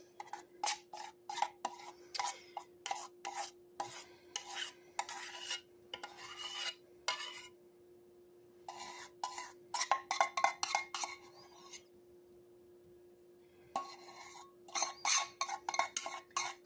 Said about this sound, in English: Sorry for the bowl scraping.